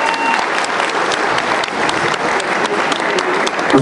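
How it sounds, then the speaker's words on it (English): An audience at a live country music concert applauds for the band, a dense, steady wash of clapping from a large crowd that holds at full level throughout, with a few faint cheers mixed in. "put your hands together and show some appreciation"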